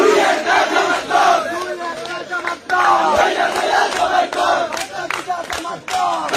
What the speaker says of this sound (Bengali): ইলেকশনে জিতে আওয়ামী লীগের স্লোগান দিতেছে বিএনপি